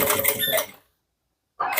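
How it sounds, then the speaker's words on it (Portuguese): Sewing machine slowly stitching synthetic leather around a small curve for a handcrafted bag, a close, steady mechanical whir that cuts off abruptly, pauses in silence, then starts up again. "a gente costura ela devagar, assentando o sintético"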